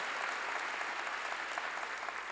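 A church congregation applauds during a Korean pastor's sermon, giving glory to God with a continuous, even roar of many hands clapping that holds steady throughout without any talking.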